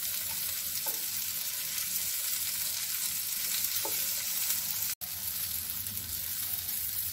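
Sliced okra fries on a hot tawa with a steady, dense sizzle, broken by a couple of soft scraping stirs and one brief dropout, close and continuous with no talking.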